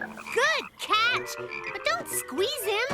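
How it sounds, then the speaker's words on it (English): A cartoonish frog croaks in warbling, rising-and-falling bursts, several times in a row, while a voice speaks briefly between them. "Listen to that frog croak."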